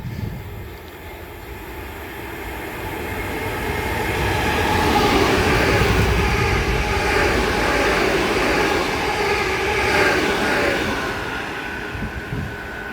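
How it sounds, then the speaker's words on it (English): Pair of Southeastern class 465 electric trains passing through Grove Park station, a rumble that builds from a quieter start to a loud, sustained roar with rail noise, then eases slightly near the end. "Pass through now is going to be a pair of Southeastern 465s from London Charing Cross to Tunbridge Wells."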